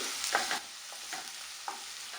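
Onions being sautéed in a pan for kurma curry give a faint, even hiss with a few soft scrapes of a stirring spoon, quiet and close, no speech.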